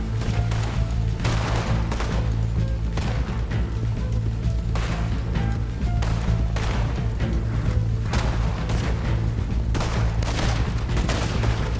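Pistol gunfire in the Red Dead Redemption 2 video game, a dense barrage of loud shots and cracks repeating throughout over a steady low rumble.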